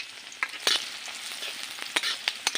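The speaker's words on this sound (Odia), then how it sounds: "କିଛି ସମୟ ଭାଜିଲା ପରେ ପିଆଜ ଏଇଠି ହେଇଯାଇଛି" Chopped onions fry with whole spices like cinnamon, cloves and peppercorns in a pan, a steady close sizzle broken by several sharp scraping stirs of a spoon.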